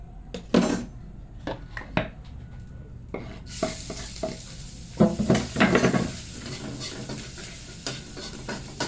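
Garlic frying in a pan for fried rice: a steady, close sizzle that swells partway through, with a spatula scraping and stirring against the metal.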